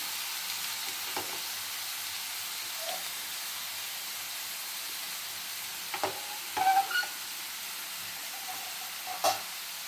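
Turkey berries and coconut sauté in oil in a pan for a stir fry, with a soft, continuous frying hiss and a few scattered clinks and stirring knocks, no voices.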